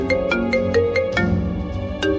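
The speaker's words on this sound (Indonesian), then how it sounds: "Bentar. Ada telepon nih." A melodic phone ringtone in an animated drama plays a bright, repeating sequence of electronic tones, close and clear with no talking.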